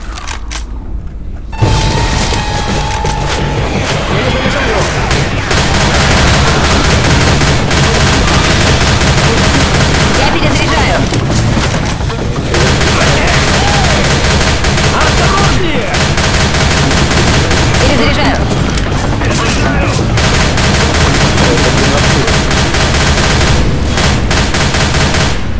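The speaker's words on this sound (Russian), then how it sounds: "Граната!" Dense gunfire and a booming grenade blast fill a Left 4 Dead firefight, with sustained rapid shots and bursts layered loudly throughout, and faint voices in the mix.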